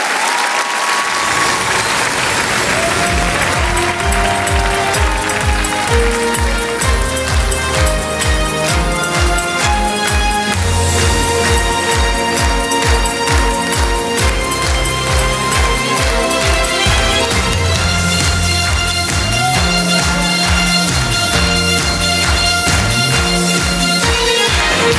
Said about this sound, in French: Je vous demande de leur faire un tonnerre d'applaudissements, mesdames et messieurs, pour la troupe de Priscilla Folle du désert.